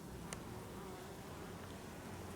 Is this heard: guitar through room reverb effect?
no